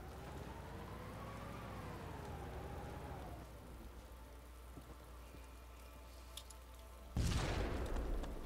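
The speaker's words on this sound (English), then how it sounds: "Anyone's wondering what that explosion was, it's a falling car" A falling car explodes in the Arma 2 video game with a sudden loud boom near the end, preceded by a steady low engine-like drone and rumbling.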